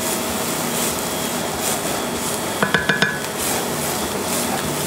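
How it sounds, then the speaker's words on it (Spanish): Onion and chile sauté in a skillet while machaca is being prepared, giving a steady close sizzle and stirring noise, with a quick run of sharp utensil clinks partway through. "después de guisar un poco nuestra cebolla y nuestro chile, agregamos la machaca"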